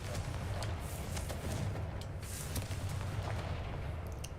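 In the video game Hogwarts Legacy, a Confringo fire spell explodes, with deep booming blasts and crackling bursts over a dense rumbling background, and nobody speaks.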